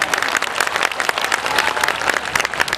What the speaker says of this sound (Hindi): थोड़ी बहुत तालियां 8-10 मेरे लिए सम्मान में भी बजाएं